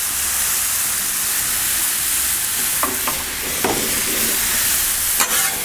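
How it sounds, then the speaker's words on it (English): Steak sizzles steadily on a Blackstone flat-top griddle with lime juice, a loud, constant frying hiss with a few brief scrape or clatter accents near the end. "That steak hitting the griddle"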